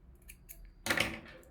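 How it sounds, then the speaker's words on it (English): Scissors snip through yarn after crocheting: a few faint ticks and then one sharp, close cut. "then chain 1 and cut my yarn"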